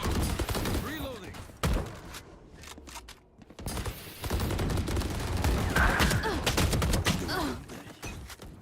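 Rapid bursts of gunfire in the tactical shooter Valorant, loud volleys cut by a brief lull, then resuming in sustained rattling fire with occasional thuds.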